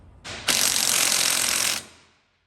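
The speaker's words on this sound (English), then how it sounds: "Our last step is to tighten down both roll cage bolts on each side." A socket ratchet tightens a roll cage bolt on a Polaris RZR XP, producing a short, dense burst of rapid clicking that starts abruptly, runs about a second and a half, then stops.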